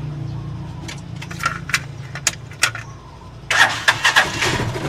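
A Rusi Chariot 175 motorcycle engine starting close by: a few cranking clicks, then it catches and settles into a steady idle, with no talk.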